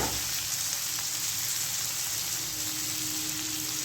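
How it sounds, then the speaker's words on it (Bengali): Ground turmeric, cumin and Kashmiri chili fry in oil in a pan with a soft, even, continuous sizzle like light rain, with no talk. "ভালো করে একটু ভাজতে হবে"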